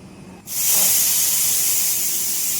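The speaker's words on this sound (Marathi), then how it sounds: "तर इकडे कुकरची शिट्टी होस" A pressure cooker whistles in a home kitchen, letting out a sudden loud jet of steam that begins abruptly and keeps hissing steadily, sharp and close, with no one talking.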